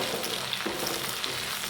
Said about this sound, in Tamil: தக்காளி ஆட் பண்ணி நல்லா வதங்கட்டும்.